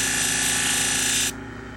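Power tool grinding a convex edge onto badly damaged salon shears: a steady, loud, hissing whine that holds for over a second, then drops to a duller hum as the edge leaves the wheel.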